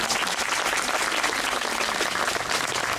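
An indoor audience applauds at a Fête Nationale ceremony in Chantilly, steady dense clapping filling the space at a strong, even level without a break.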